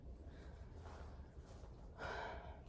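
Heavy, audible breathing close to the microphone, slow rhythmic inhales and exhales with one stronger gasp-like breath toward the end.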